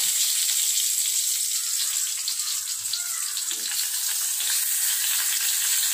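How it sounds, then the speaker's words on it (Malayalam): Wrapped fish fries in oil over a low flame, giving a steady, close, fairly loud sizzle and crackle that holds evenly throughout with no voices. "എണ്ണ ഒഴിച്ച് കൊടുത്തിട്ടുണ്ടെങ്കിൽ നമ്മൾ പൊതിഞ്ഞ് വെച്ച മീൻ ഇതിനകത്തായിട്ട് വെച്ച് കൊടുക്കാം."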